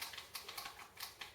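Buttons on an Xbox One controller clicking in a quick, light series of sharp, crisp taps, close and fairly quiet, with no talking.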